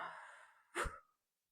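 Breath released during a guided breathing exercise: one soft, close airy exhale that ends in a brief sharper gust of air before silence, with no talking over it.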